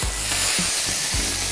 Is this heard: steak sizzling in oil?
yes